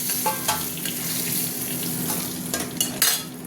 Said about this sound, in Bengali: মাছ দিয়ে দিচ্ছি। পিস করে ভাজি, ভাজা হতে থাক।